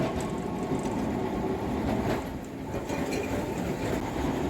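A Kolkata tram rolls along its rails toward the Gariahat depot, a steady close rumble of wheels on track with faint clicks and a light squeal, no voices.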